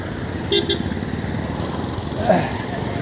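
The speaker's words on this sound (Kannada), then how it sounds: "ಹಾರನ್ ಮಾಡ್ದವನು." A short double toot of a vehicle horn rises over steady engine and road noise, followed a moment later by a fainter honk.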